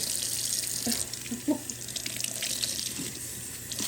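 Steady running tap water splashing into a sink while a Berkey water filter is scrubbed, with a few soft knocks and rubbing sounds mixed in, close by.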